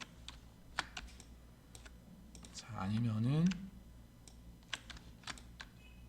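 Ctrl+C and Ctrl+V shortcuts pressed on a computer keyboard, heard as scattered crisp key clicks at close range, with a brief spoken phrase partway through.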